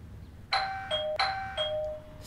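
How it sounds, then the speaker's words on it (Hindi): A doorbell chimes twice in quick succession, each a clear two-tone ding-dong ringing out in a quiet room. "सुबह सुबह दूध वालों की तरह घंटी कौन बजाता है?"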